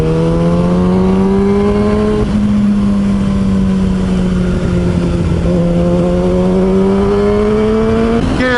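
A Kawasaki ZX6R motorcycle on open road gives a loud, steady engine drone that climbs in pitch, drops at a gear change and climbs again, with wind noise throughout and no talk.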